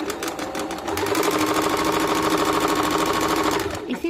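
A sewing machine runs in one steady, loud, rapid burst of stitching on a blouse seam, starting and stopping near the ends of the run, with no talk.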